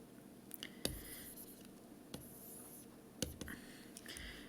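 A pen or marker writes a word in a few short strokes, giving faint scratchy rubs broken by several sharp taps and clicks, quiet and close.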